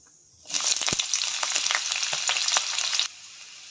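Onions frying in a little oil in a kadai wok for an aloo chop filling, a steady loud sizzle that starts abruptly and crackles for about two and a half seconds before cutting off, with no voices.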